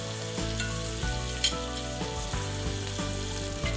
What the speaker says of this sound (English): You definitely want that sizzle and move it around just a smidgen when you first get it in so it's not sticking